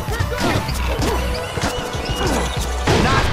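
An NBA Street Vol. 2 video game plays a loud slam dunk, a sharp crash and thwack of the ball through the rim amid busy game sound, with a sudden forceful hit near the end.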